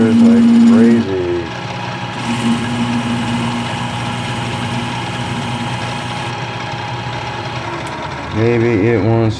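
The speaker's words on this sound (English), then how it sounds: "That chatter is like crazy." A lathe parting tool chatters as it cuts, giving a steady mechanical buzz with a harmonic whine. It swells louder at the start and end and runs continuously throughout.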